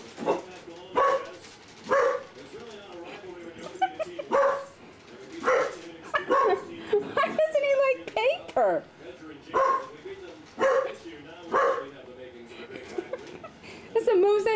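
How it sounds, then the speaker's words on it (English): A puppy named Bodie barks in repeated short, sharp yaps at a family Thanksgiving gathering, close and fairly loud, interspersed with people talking and laughing. "That's the most I heard him bark."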